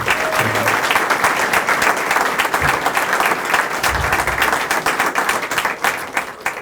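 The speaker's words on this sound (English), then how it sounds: "another round of applause for the city of Rutland" An audience at an annual meeting breaks into sustained applause, a dense, steady patter of many hands clapping up close that continues evenly throughout.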